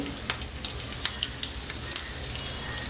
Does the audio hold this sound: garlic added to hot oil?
yes